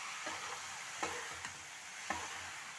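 Spinach frying in a pan with spices and tomato, a steady soft sizzle with a few sharp stirring scrapes of a spoon against the pan, close up.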